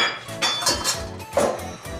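A metal pot is handled on an electric stove while making winter cabbage and anchovy spaghetti, giving several loud metallic clanks and clinks in quick, uneven succession, close by.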